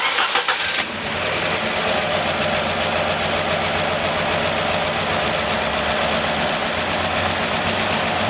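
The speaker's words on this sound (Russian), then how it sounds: "Ну а теперь запускаю" A car engine cranks briefly and catches, then settles into a loud, steady idle with an even mechanical chatter while an ignition coil tester is connected.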